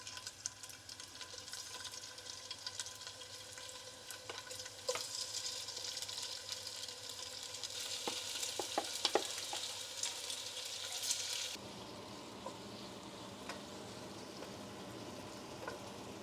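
Seasoned chicken pieces fry in hot coconut oil with a continuous, crackling sizzle and occasional stirring clicks, then the frying drops abruptly to a quieter, even hiss.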